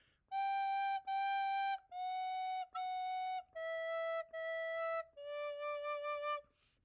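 Recorder playing a short phrase of about six clear, breathy notes, stepping down in pitch in separate blown tones, heard alone with no talking.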